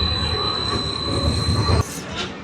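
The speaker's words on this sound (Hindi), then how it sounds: "ये शाह लतीफ़ एक्सप्रेस है जो कि कराची से मीरपुर ख़ास पहुंची है।" Shah Latif Express passenger train from Karachi pulling into Mirpur Khas station, a loud steady rumble of rolling wheels with a long high wheel squeal that cuts off abruptly near the end, leaving quieter station ambience.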